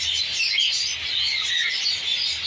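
Recessive pied Hogoromo budgies, a bonded pair, chatter continuously with high, busy chirps and warbles, close by and unbroken.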